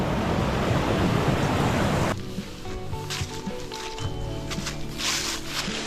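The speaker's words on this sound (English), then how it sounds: "there's a waterfall." A waterfall on the Manistee River Trail produces a loud, close rush of falling water for about two seconds. The sound then cuts to quieter outdoor noise with faint tonal sounds.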